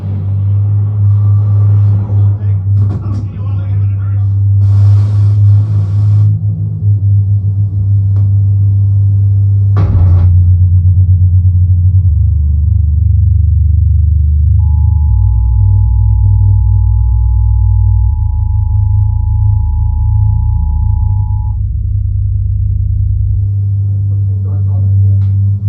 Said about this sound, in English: So this first is the intro to Edge of Tomorrow.